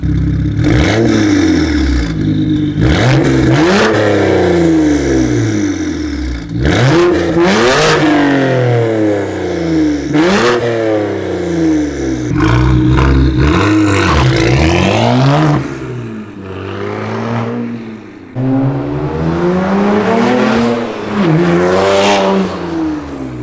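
A BMW 335i engine revs repeatedly through a loud aftermarket exhaust, rising and falling in pitch in several bursts, close and powerful, with no talking.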